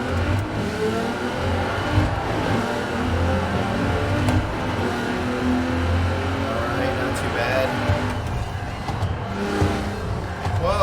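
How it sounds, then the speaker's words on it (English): A 2017 Nissan GTR in the racing game Forza Horizon 4, driven in a circuit race, roars continuously with engine revving, shifting and some tire noise, loud throughout. A voice talks over it. "we are doing a circuit race in the 2017 Nissan GTR"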